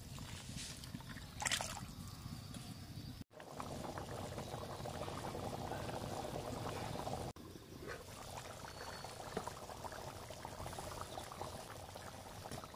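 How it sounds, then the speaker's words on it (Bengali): Water saved from boiling chickpeas is poured into mashed chickpeas in a pot, giving a continuous bubbling, liquid rush with brief breaks, fairly quiet and close. "ছোলা সিদ্ধ করে রাখা জল দিয়ে দেব"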